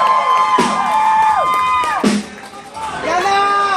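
A concert crowd welcomes a singer on stage with loud cheering and high, sliding whoops and shouts that rise and fall in waves.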